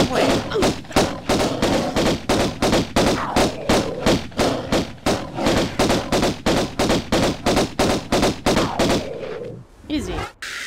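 Rapid, loud, evenly spaced gunshots from the Tomb Raider video game fire at gorillas, a long steady volley that stops near the end and leaves a short quieter tail.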